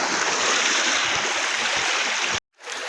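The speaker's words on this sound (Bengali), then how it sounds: "দেখুন জলটা বয়ে কত সুন্দর উপর থেকে একদম নিচে যাচ্ছে" Clear river water streams steadily downstream in a village river, a continuous close rushing wash that cuts off abruptly near the end.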